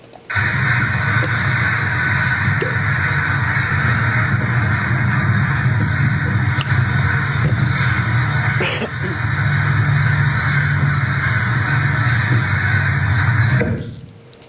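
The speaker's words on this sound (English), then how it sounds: "And this video was captured by Rose earlier on in the quarter of a pre-roost aggregation." A pre-roost aggregation of crows gathers, their cawing blending into a loud, steady, dense chorus that carries on without a break before cutting off near the end.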